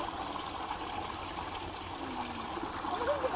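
Water flowing freely through a fish farm channel, a steady broad rush and trickle filling the whole clip at moderate level, with faint voices in the background.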